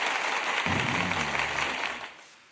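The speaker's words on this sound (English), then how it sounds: "I gotta give that an applause" Sustained applause from an audience, a dense wash of clapping that holds steady for about two seconds with a low hum underneath, then tails off and fades toward the end.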